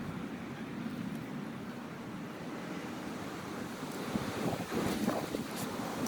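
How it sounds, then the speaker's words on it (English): Wind buffets a microphone at a beehive on a blustery day in a steady, low rumbling rush that swells briefly near the end. "This was a little bit of a windy day."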